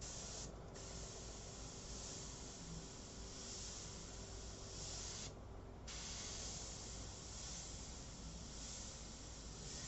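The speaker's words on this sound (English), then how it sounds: "I'm going to check my airbrush" An airbrush spraying paint for a portrait gives a steady, continuous hiss that runs close and even throughout, with two brief dips, and no talking.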